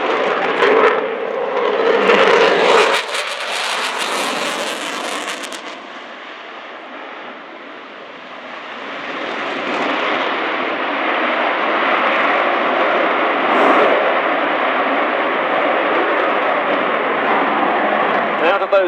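An RAF Eurofighter Typhoon from 29 Reserve Squadron flying a display at RIAT 2013, a loud jet roar with a sharp crackling burst early on, then a steady, sustained engine rush, with a commentator talking over it.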